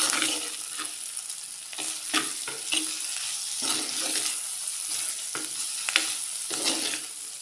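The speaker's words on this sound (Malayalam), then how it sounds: "അതിലേക്ക് ഒരു ടൊമാറ്റോ കട്ട് ചെയ്തും കൂടെ ഇട്ട് കൊടുക്കുകയാണ്. ഇതും കൂടെ നന്നായിട്ട് വഴറ്റിയെടുക്കണം." Chopped tomato sautéing in a pan for a roasted-coconut chicken curry gives a steady close sizzle, broken by repeated scraping strokes of a stirring spoon, with no talking.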